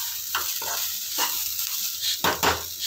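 Jeera rice is stirred in a pot just after the lid comes off, making repeated scraping strokes over a soft sizzle, close and moderately loud, with no one talking.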